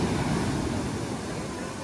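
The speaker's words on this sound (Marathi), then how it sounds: "कसली लाटा येत आहेत बघा, मोठी मोठी." Big sea waves break at the beach at Kunkeshwar, a continuous loud, broad roar of surf with wind rushing across the microphone, with no talking.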